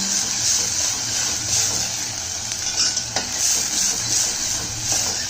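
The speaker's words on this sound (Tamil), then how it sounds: "இன்னும் வெங்காயம் வதங்கணும்ல" Onions and green chillies saute in oil in a pan, a loud, continuous close sizzle with occasional clinks and scrapes of a utensil stirring, heard alone without talk.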